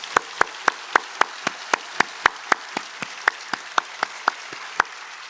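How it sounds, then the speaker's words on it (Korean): A church congregation at a summer retreat lecture claps in unison, giving a steady series of about twenty sharp, evenly spaced claps in a quiet room. "전 세계에 있는 그 많은 분들을 향하여서 격려의 박수 한번 보내주세요"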